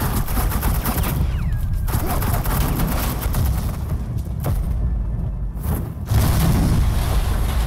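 Suppressing gunfire in the video game Batman: The Enemy Within, a dense, loud barrage of shots running continuously over a busy game soundtrack, with brief dips and a renewed burst near the end.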